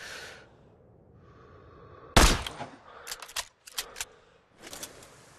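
Sniper rifle gunfire in Sniper Ghost Warrior 3: one sharp, loud crack stands out after a quiet stretch, followed by several shorter clicking and rustling bursts, with faint breathing-like noise early on.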